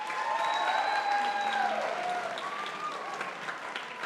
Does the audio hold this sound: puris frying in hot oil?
no